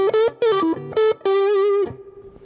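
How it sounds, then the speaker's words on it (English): Distorted electric guitar with a bright single-coil tone from a Gibson Les Paul Axcess plays a short phrase of sustained notes, ending on a held note that rings and fades. "Here's a sound single coil."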